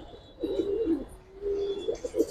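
Male racing pigeon, a triple-barred red cock with feathered feet, cooing close by in two low, rolling bursts separated by a brief pause, with no talking over it.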